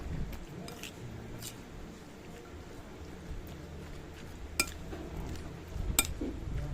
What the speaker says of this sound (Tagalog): Ihalo-halo natin para maluto yung isda.